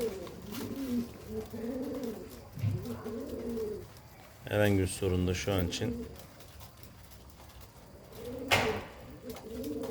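Male pigeons coo repeatedly in soft, rolling calls close by, with someone speaking over them at times.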